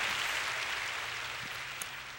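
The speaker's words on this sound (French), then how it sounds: "faites de beaux applaudissements." An audience at a religious broadcast applauds for Jesus, a steady wash of many hands clapping that is fairly soft and distant, with a single sharper clap near the end.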